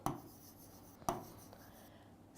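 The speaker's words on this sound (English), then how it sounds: "Let's write it down." A pen or marker scratches out notes on a biology lecture, with a few quick strokes opening with sharp taps, then quieter scratching in a hushed room with no talking.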